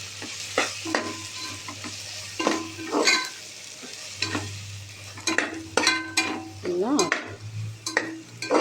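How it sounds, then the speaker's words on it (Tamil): Vegetables for vegetable biryani, mixed with biryani powder, are stirred in a pan with a steady sizzle underneath, while repeated scraping and knocking strokes of a spoon sound up close, irregular and fairly loud, with no talking. "இதையும் போட்டு நல்லா கிளறி விட்டுருவோம்"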